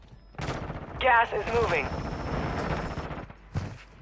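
Gunfire in Call of Duty Warzone 2, with sharp shots cracking at intervals amid game radio chatter and a spoken line, the bursts loud and close near the start and end.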